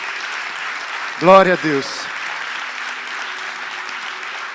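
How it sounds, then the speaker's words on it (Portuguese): A congregation at an evangelical church conference gives sustained, dense applause throughout, while a voice briefly speaks over the clapping. "Você pode dar uma salva de palmas a Jesus pela vida do pastor Dênio?"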